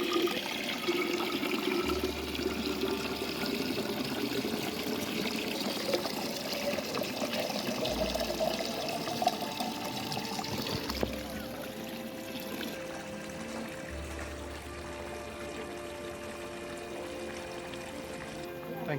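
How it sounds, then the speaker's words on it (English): Water streaming from a nine-headed dragon fountain in Japan, a steady continuous splashing flow heard throughout, with background murmur and occasional low hums. "Here is a very beautiful 9-headed dragon fountain."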